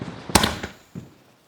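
A Diwali firework shot fires with a sharp broadband bang, followed by two weaker pops and a fading crackle, close and loud against an otherwise quiet background.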